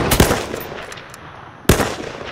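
Two sharp, loud M40 sniper rifle shots ring out in the video game H1Z1, spaced about a second and a half apart, each a hard broadband crack with a short decaying tail over faint ambience.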